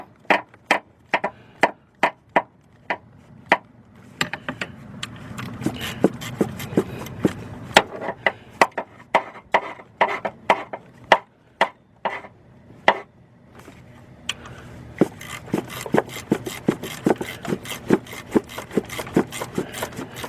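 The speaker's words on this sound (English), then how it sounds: "now we're just using the socket and the ratchet" Socket and ratchet tightening a bolt on the alternator of a 2001 Saturn L300 3.0: a long run of sharp, close clicks, sometimes quick and sometimes spaced, over faint rubbing and handling noise.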